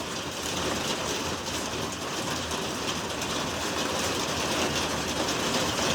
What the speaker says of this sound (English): Up, here comes more hail.